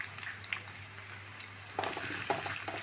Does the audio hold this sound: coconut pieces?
yes